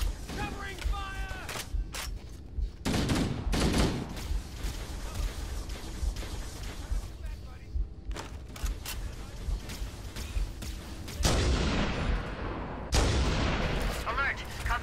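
Heavy gunfire and explosive blasts erupt in bursts in Halo, loud and close, with shouting voices between the shots.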